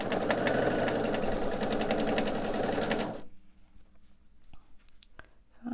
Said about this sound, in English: And now I'm going to sew these together.